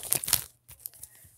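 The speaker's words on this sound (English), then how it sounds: "So, shuffling all the packs, seeing which one will be first." Sealed foil Pokemon card packs crinkling and rustling as they are shuffled by hand, a few quick crisp bursts up close, then a brief pause and lighter scattered crinkles, quiet with no talk.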